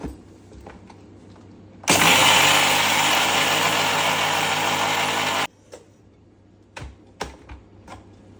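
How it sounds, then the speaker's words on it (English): An electric grinder jar pulverises a cup of sugar into powder for baking, a loud continuous whirring roar that starts abruptly, runs about three and a half seconds, then cuts off, leaving faint clinks and handling noises. "I'll put it in this grinder jar and grind it."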